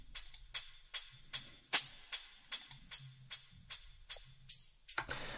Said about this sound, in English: And without the grain delay, it sounds like this.